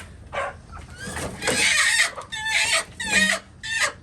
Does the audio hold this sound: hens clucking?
yes